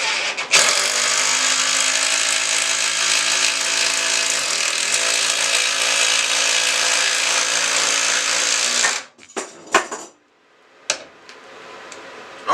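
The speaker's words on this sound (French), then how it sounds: "au moins ça force bien et on voit que la visseuse elle y va quoi" A drill driver set to speed 2 drives a lag screw into wood, whirring loudly and steadily for about nine seconds before stopping, followed by a few short clunks and knocks.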